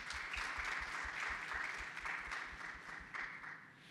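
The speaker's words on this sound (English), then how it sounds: "How about another round of applause for the Student Health Center?" An awards ceremony audience applauds, with continuous, fairly even clapping heard at a distance and a steady low rhythmic thump beneath it.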